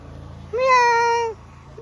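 A cat gives one clear, drawn-out meow close by, rising and then falling over about a second, with quiet background noise before and after.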